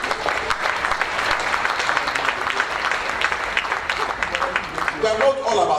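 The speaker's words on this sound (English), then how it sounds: "Can we clap for these ones?" A summit audience claps steadily for several seconds, a dense, even patter of many hands filling the room with no clear break until near the end.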